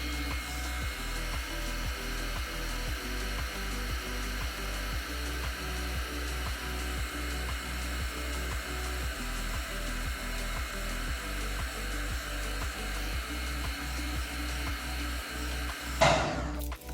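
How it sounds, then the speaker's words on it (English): A hair dryer blows steadily while drying a repair coating on a chipped bathtub, a continuous whir with a pulsing rhythm that runs unbroken and ends in a short bump. "With the hair dryer, it makes it much quicker."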